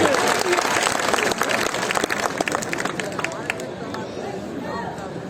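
A political rally crowd in Patna applauds a welcomed speaker, loud dense clapping mixed with crowd chatter and an announcer's voice, gradually easing off.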